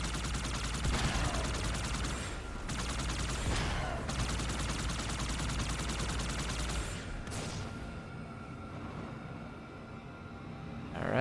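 Sustained gunfire in a Halo 2 firefight against enemies, a dense continuous rattle of automatic shots with a few sharper cracks, fairly loud and steady before thinning out toward the end.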